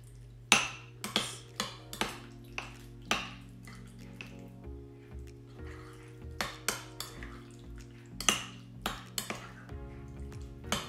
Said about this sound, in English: Then you just need to stir it, just, and you need to mix it good